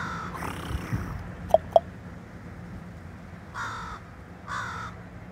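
An American crow caws in a few harsh, separate bursts, close and fairly loud over steady outdoor background noise, with two sharp clicks partway through.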